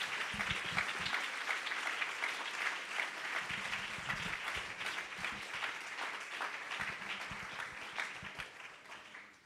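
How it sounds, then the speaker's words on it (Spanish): A church congregation breaks into sustained applause during a Spanish-language sermon, a dense wash of many hands clapping that holds steady and then tapers off toward the end. "Alguien puede darle un aplauso a Jesús esta mañana"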